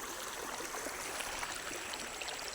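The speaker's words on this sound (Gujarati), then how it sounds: "તણાઈ જાય એટલું પાણી હાલે છે અહીંયા" Strong water rushing steadily at a temple site in Gujarat, a dense, even broadband roar of flowing stream water heard close and unbroken throughout.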